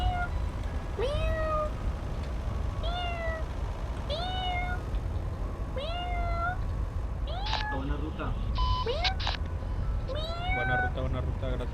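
A man imitates a cat's meow with his voice, giving repeated rising meow-like calls at a steady pace, loud and close, over a constant low engine-like rumble during a truck-driving game session.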